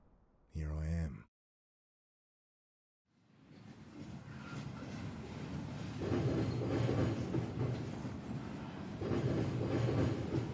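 Train riding sounds from the point-and-click adventure game The Drifter: a short burst of voice, a silent gap, then a steady rumbling, rattling train ride building and swelling, with no talk over it.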